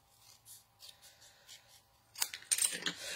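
Scissors cutting metallic paper during a craft session: soft snips and rustles at first, then a louder crisp crinkling and slicing burst near the end, close by.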